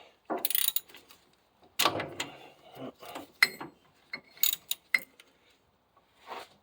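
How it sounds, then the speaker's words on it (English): A car half shaft turned by hand in short bursts, with irregular metallic clicks, ratcheting and scraping separated by brief pauses, close and fairly quiet. "rotate the shaft"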